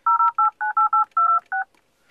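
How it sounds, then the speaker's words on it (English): Touch-tone dialing beeps from the Google Voice app on an iPad, seven short evenly spaced two-tone bursts in quick succession, clear and close, with no talking. "So I just dialed the number,"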